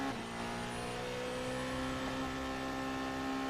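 A race car powers through the fast Niki Lauda corner at about 300 km/h, its engine a loud, sustained high whine that holds steady and climbs slightly, with no speech.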